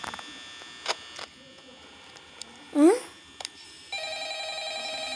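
Electronic telephone ring tones chirp in short bursts amid a steady electronic hum and beeps inside a video game pizza factory, with a brief rising warble standing out midway.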